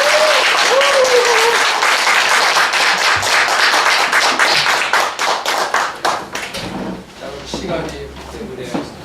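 An audience at a youth forum of a Korean advancement foundation claps loudly in a dense burst of applause that gradually thins out into scattered claps and fades.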